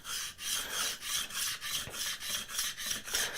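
A hand plane shaved along a board by a beginner woodworker, with about ten rhythmic rasping strokes in steady succession, close and fairly quiet.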